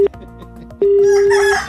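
A rooster crow used as a sound effect in a Mirchi 98.3 radio jingle, a short sharp call followed by a long sustained crow, loud and close, set within music.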